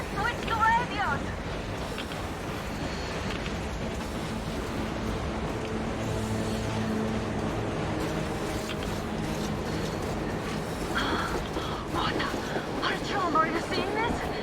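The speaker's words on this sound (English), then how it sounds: "Now that's what I call a blizzard! Can't see a thing!" Blizzard wind roars in the video game Metro Exodus, a steady, dense, loud rush of howling wind and gusts that carries through the whole stretch alongside faint game sounds.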